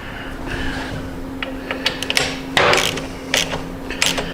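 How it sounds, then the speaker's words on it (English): A 3/16 Allen key tightens the lower bolt of an engine guard on a Harley-Davidson Sportster S, giving scattered short metallic clicks and ratcheting ticks against a quiet workshop hum. "The bottom one's going to be a 3/16 Allen. We'll snug that down on both sides."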